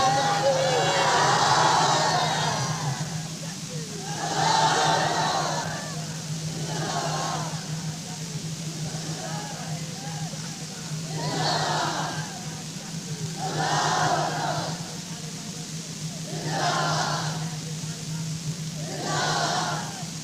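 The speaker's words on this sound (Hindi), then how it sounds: "अल्लाहु अकबर जी सदा।" A large crowd at a gathering for Molana Shaheed Dr Khalid Muhmood Somro answers the call with the Allahu Akbar takbir, roaring chants in regular bursts every few seconds, carried over an amplified hum.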